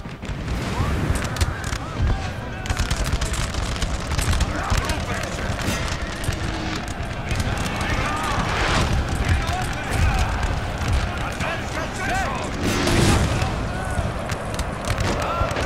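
Volleys of musket fire in a Napoleonic battle from the Empire 1815 campaign strategy game, a continuous crackle of shots and booms over battlefield noise, loud and busy throughout, with someone talking in places.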